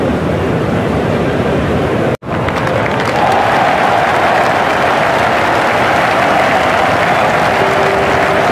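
Crowd noise from a Cricket 07 match, a steady broadband roar of spectators running continuously and loud, with a brief dropout early on, as a batsman walks back toward the pavilion.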